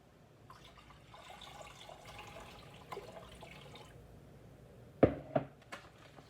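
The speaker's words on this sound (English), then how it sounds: "we're going to add 4 cups of water." Water being poured into vinegar for a refrigerated dill pickle brine, a faint liquid trickle building to a few splashy glugs near the end, close and quiet with no speech.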